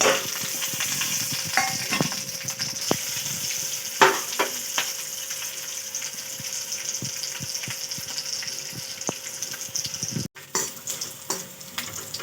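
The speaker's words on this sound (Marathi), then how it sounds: "तेल गरम झाला आता आपण हे सगळं टाकून देऊ त्याच्यामध्ये" Ingredients tipped into hot oil in a pan for cooking poha sizzle and crackle, with scraping stir strokes and small clinks scattered through a steady frying hiss, close by and with no talking.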